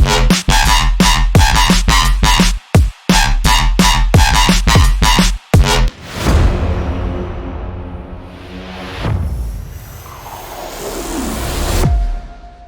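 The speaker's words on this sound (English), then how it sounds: "that classic FM synthesis whoop bass sound that you hear in jump up drum and bass" A jump up drum and bass FM synthesis whoop bass comes in hard, rhythmic choppy bursts with drums, then breaks into swooping, pitch-bending bass sweeps and rising whoops, loud and alone.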